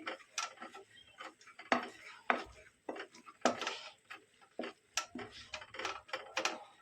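Light mashing of cooked vegetables for gajrela with a wooden madhani churner, giving a run of soft irregular knocks and scrapes against the pot, close and moderately loud with no talk.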